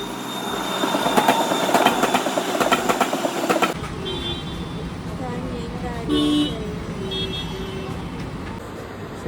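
The Rajendra Nagar Howrah Express runs at an Indian railway station: a loud, close rumble of rolling wagons gives way to a quieter platform hum with brief horn-like toots and faint background voices.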